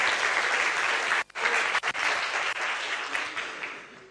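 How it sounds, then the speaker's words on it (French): Sustained applause from the audience at the closing of a 2014 colloquium, many hands clapping steadily for several seconds with a couple of brief dips, slowly tapering toward the end. "On peut remercier nos intervenants, les applaudir."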